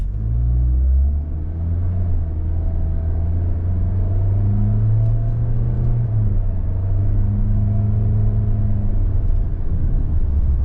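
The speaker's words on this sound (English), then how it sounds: "we're feathering in the gas on this new engine, but it gets up to speed" A 2025 Toyota Corolla LE compact sedan's engine hums and rumbles steadily as it accelerates from a standstill, the pitch rising gradually, heard from inside without any talking.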